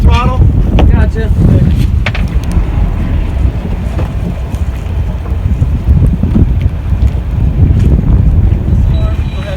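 Sailboat motor running in reverse under added throttle, a loud continuous low churning rumble mixed with wind buffeting the microphone, with people talking intermittently.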